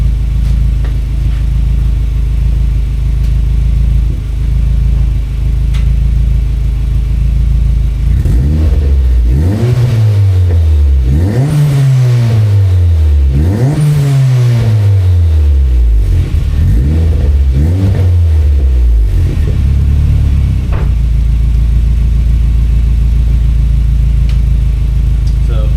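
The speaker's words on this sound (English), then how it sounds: "let's rev this one up" A car fitted with a muffler idles with a low steady rumble, then revs up sharply several times in rising and falling sweeps before settling back to idle, loud and close.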